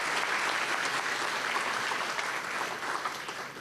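An audience applauds musicians at a youth recognition awards ceremony, a thick, continuous wash of clapping from a large crowd that stays strong and then eases slightly toward the end, with no speech.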